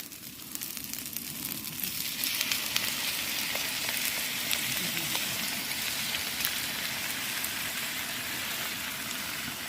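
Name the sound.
bolognese sauce added to sizzling chorizo noodle stir fry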